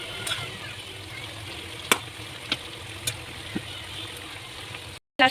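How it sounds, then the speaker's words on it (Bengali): Red amaranth greens with shrimp and green chilies fry in a pan, making a low steady sizzle broken by a few sharp clinks of stirring before a brief cutout at the end. "একটু লাড়া দিয়ে দিব"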